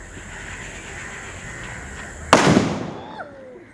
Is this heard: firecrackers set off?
yes